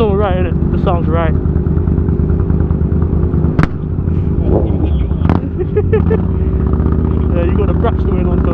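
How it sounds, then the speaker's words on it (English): A cruiser motorcycle engine revs loudly up close, with sharp exhaust pops and crackles at intervals over a throbbing rumble; voices are heard over the engine. "you got the braps going on, Tom."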